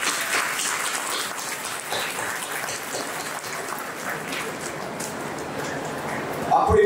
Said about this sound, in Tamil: பெரியவர்களுக்கு நாம் கரகோஷம் கொடுத்து